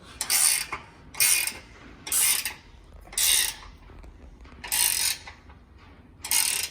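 A ratchet wrench tightens the mounting bolts on Ocam side steps for a Ford Ranger, sounding as six bursts of rapid clicking with short pauses between them, close and clear, with no talking.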